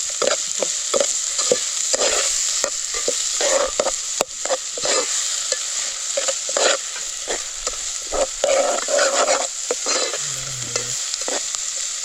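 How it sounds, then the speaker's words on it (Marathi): Garlic tempering in hot oil in a wok hisses and sizzles continuously while a spatula scrapes and stirs in quick repeated strokes, close and loud, with no voices. "लसूण फोडणी बस काय मस्त एकदम. चायनीजवाल्यांसारखी रे दिलीस फोडणी."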